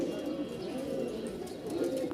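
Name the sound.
Giribaaj pigeons cooing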